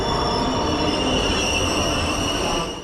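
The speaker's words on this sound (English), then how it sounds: "Our train for this leg is an ICE 4 set." An ICE 4 high-speed train runs on rails in Germany, giving a loud, steady rolling rumble with sustained high wheel squeal tones held throughout, close by and with no talk.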